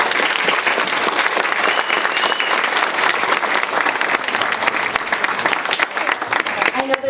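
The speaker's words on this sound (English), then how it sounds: "So let's give a round of applause." A hall audience gives a round of applause at an honors event, a dense, steady wash of many hands clapping close and loud throughout.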